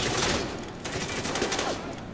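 Dense video-game gunfire from the shooter Spec Ops: The Line, a continuous burst of rapid automatic shots with no pauses, steady and fairly loud throughout.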